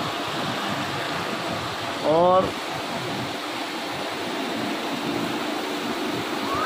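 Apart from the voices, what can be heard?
torrential heavy rain in Karachi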